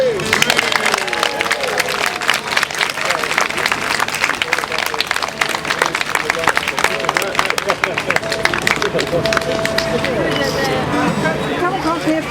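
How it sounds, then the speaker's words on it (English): Crowd applause rings out for a band at an outdoor oak-planting gathering, steady dense clapping filling the whole stretch with crowd murmur and some voices mixed in. "Can we have some special applause for our band, please?"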